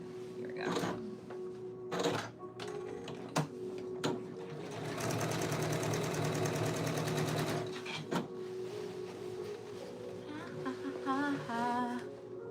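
Sewing machine stitching pleats on a skirt, running in long steady bursts of rapid mechanical whirring with short stops between, close and fairly loud, with a few quiet voice sounds in the gaps.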